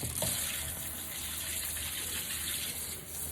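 Hot water gushing steadily from a tap, a loud, continuous rushing stream that stays constant throughout, close by and with no voices.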